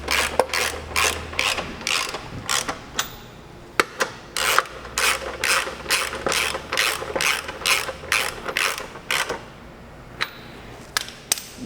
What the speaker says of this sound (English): You can get to these top 4 with a ratchet.